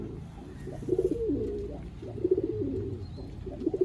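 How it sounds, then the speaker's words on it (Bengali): Old-generation Giribaz pigeons coo in a loft, soft repeated throaty coos in short rhythmic bursts, close and fairly quiet with no talk. "ওল্ড জেনারেশন গিরিবাস পায়রা"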